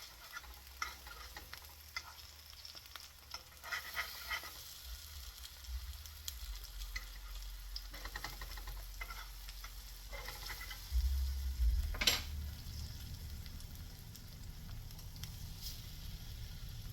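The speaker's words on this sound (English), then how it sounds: "so we're going to just let those fry up" Plantains fry in hot oil in a crowded pan, giving a steady close sizzle and crackle throughout with occasional stirring or utensil clinks and a brief sharp tick near the end.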